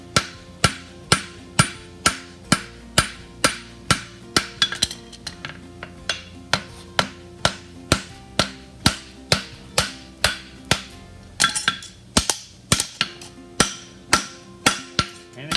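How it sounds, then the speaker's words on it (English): Steady hammer blows ring on a steel horseshoe heel caulk at the forge, about two strikes per second, each a sharp metallic clang with a bright ringing tail, loud and close with no talk. "I'm just gonna hit the side because it always mushrooms to the side of the hammer"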